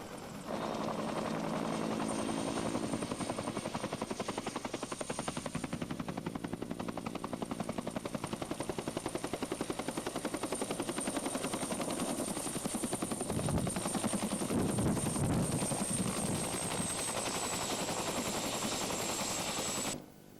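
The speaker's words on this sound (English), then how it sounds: "being dropped off the tops of mountains by helicopters" A helicopter's rotor thumps steadily and loudly throughout, a continuous close drone that holds without letup, during heli-skiing in the Canadian Rockies.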